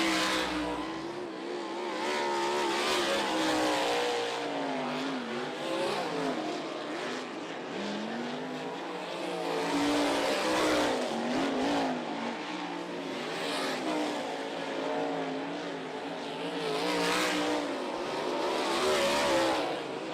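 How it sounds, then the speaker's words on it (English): USAC sprint cars roaring around an Ocala dirt track during hot laps, engines rising and falling in waves as cars pass by, loud and continuous with overlapping revving from several cars. "Dirt Draft Hot Lap Session number 2 is underway"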